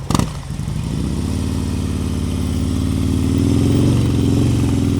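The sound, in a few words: motorcycle coming to a smooth stop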